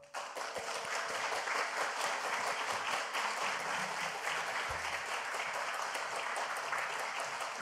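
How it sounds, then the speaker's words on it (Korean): Loud, sustained applause fills a church revival meeting as a congregation welcomes the pastor to the stage, dense steady clapping from many hands throughout with no break. "우리 정 목사님 나오실 때 큰 박수로 모시겠습니다"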